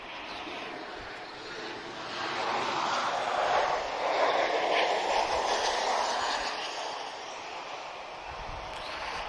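A Ryanair airliner arriving from Berlin at Lisbon Airport, its jet roar swelling steadily to a broad, loud rush in the middle and then easing off, heard from a distance with no talk.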